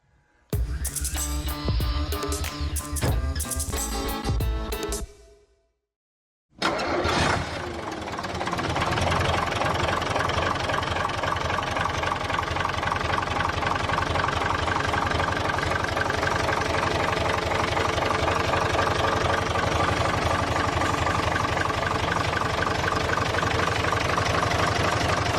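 An air-cooled Deutz diesel tractor engine starts after a brief pause and then idles loud and steady nearby, with a constant knocking clatter and no voices.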